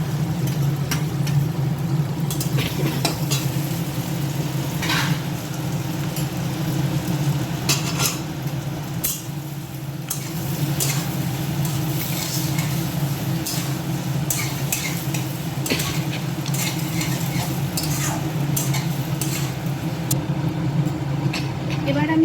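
Potatoes sizzle steadily in a pan with tomato for jeera aloo, broken by scattered clinks and scrapes of stirring over a constant low hum, with talking at times.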